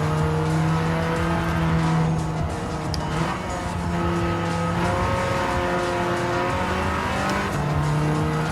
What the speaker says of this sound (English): I'm gonna have to over rev it in order to get it there.